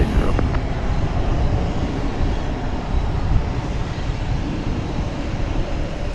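A cargo airliner taxis in at DFW Airport, its engines giving a continuous loud, dense rumble and whine that stays even and close for the whole stretch.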